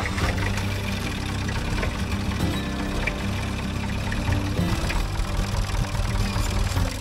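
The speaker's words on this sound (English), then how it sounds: "Today will involve the tractor, if we can coax it into life." A tractor engine runs at a steady idle, with a low continuous rumble and faint knocking that holds throughout, fairly loud and alone with no one talking.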